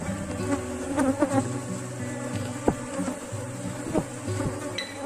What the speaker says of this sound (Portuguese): Olha só, coloquei aqui o enxame aqui.